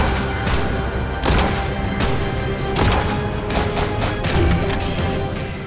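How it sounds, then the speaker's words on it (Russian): Rapid bursts of gunfire and heavy explosion effects for weapons in a Unity video game, loud and back to back in quick succession with no talk. "я уже добавил звуки выстрелов, взрывов каждому виду оружия"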